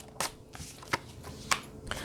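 Tarot cards being shuffled and drawn, with several short crisp riffles and snaps spaced apart over a soft background, close and fairly quiet.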